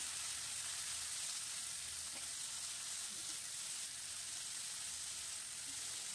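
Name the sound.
chopped onions frying in a pan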